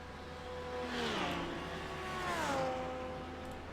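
A GT3 race car on the four-mile Road America circuit whines past at a distance with falling engine pitch, then sweeps by again. The sound is faint and steady, with no voices.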